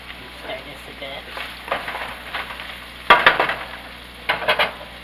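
Cabbage and sausage sizzling in a pan while being stirred, a steady frying hiss with scraping utensil strokes that come and go in uneven bursts; no talking.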